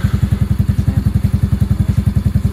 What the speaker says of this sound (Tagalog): Ito yung unang tunog ng silent pipe na hindi pa nakatanggal yung silencer niya.